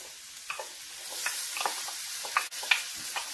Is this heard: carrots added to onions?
yes